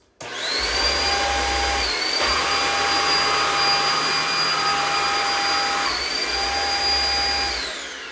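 A Eureka Flash stick vacuum cleaner runs with a steady high-pitched whine, its pitch briefly shifting twice as the setting changes from hardwood to carpet.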